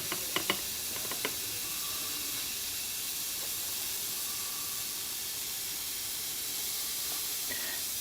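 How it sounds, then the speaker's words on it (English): Bezzera Unica espresso machine's lever-actuated steam wand frothing about five ounces of milk in a 12-ounce pitcher: a steady, fairly soft hiss runs throughout, with a few light clicks near the start. "you can actually control the velocity with the lever actuated steam valve"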